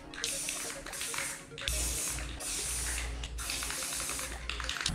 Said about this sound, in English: Here I'm spraying the white paint on my fingers and flicking it